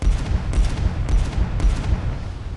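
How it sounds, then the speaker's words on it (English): Warship missile strike launches in the mobile naval combat game Warships Mobile 2, a dense roaring rumble punctuated by three evenly spaced loud bursts, with no voices. "Missiles prepared for launch. Right, full rudder. Initiating missile strike."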